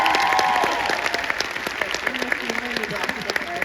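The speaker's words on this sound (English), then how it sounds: "can we give her a round of applause?" An audience at a Smallville panel at Comic Con Liverpool breaks into a burst of applause, loud at first and thinning into scattered claps, while a voice talks over the tail end.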